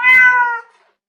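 A single clear cat meow, close and loud, rising then fading out over about half a second.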